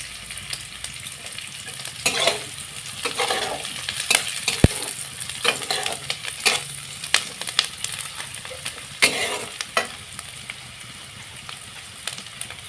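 Curry leaves and green chillies sizzle loudly in hot oil in a pan for jeera rice, a steady crackling hiss broken by clinks and scrapes of a stirring spoon.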